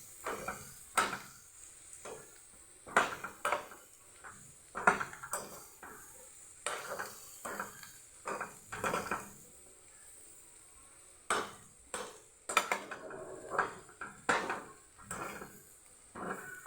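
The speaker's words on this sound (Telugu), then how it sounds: "కొంచెం నూనె పోసేసి చామదుంపలు వేసానండి. కొంచెం నూనెలో ఇట్లా వేపుదాం." Taro pieces fried in a little oil in a pan, stirred with irregular scraping and clattering strokes over a faint sizzle, close by.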